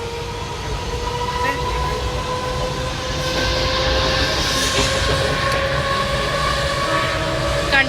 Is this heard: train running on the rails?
yes